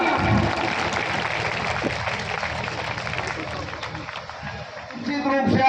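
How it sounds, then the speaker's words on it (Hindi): Applause and crowd noise fill a workers' conference and honours ceremony hall. The clapping is continuous and loud but blurred, with voices mixed in. "तालियां बजाइए, जोरदार तालियां"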